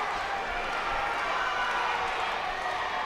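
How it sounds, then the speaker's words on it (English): A hometown crowd at a combat-sports fight roars in a steady, dense wash of cheering and shouting that holds without a break. "Hear the hometown crowd cheering him on."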